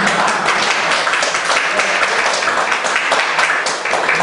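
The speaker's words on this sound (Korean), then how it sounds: "우리 목사님께 박수 한번 부탁드리겠습니다" A church congregation at a Sunday service applauds their pastor, with dense, sustained clapping from many hands filling the room at full strength for several seconds.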